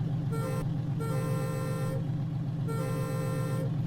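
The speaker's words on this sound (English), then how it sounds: "There's the horn, air horn." The air horn of a Peterbilt 378 truck in American Truck Simulator sounds two long, loud blasts over a steady low engine rumble, with a short gap between them.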